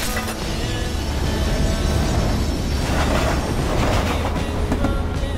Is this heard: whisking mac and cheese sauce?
no